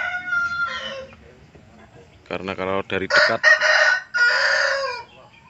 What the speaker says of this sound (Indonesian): Sangat jarang sekali ayam betina bisa berkokok.